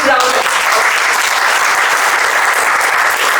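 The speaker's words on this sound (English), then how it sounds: "Please, a big round of applause." Loud, dense applause from a large crowd at an outdoor morning gathering on horticulture in Jaipur, continuous and even throughout with a faint voice at the very start.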